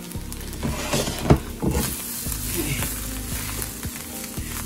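Rice toasting in a pan for dirty rice sizzles steadily while a utensil stirs and scrapes it, with several sharp clacks against the pan over the crackle.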